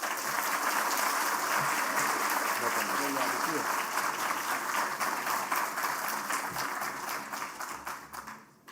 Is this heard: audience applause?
yes